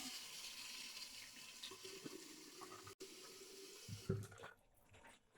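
A tap runs in a sink to rinse off after a wet shave, a soft steady wash of water heard faintly from a distance, with a few small splashes and clunks near the end.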